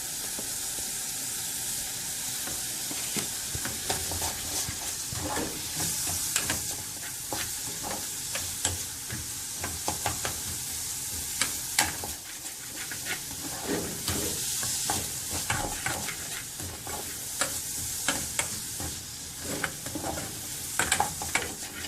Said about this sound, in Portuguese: A cebola murchou um pouquinho, já dá para adicionar o alho.